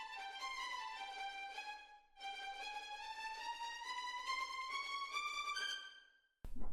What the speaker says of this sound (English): I love the mezzo tremolos,